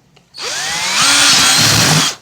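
Loud, close power-drill whine boring into a used bumper for a 1994 Chevy K1500 truck, revving up sharply and holding steady for nearly two seconds before stopping suddenly.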